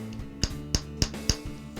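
A hammer strikes the edge of a metal bracelet held on a metal stake over a urethane pad, four sharp ringing blows at an even pace and a lighter fifth tap, close and alone.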